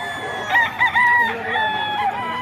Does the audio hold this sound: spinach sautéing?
no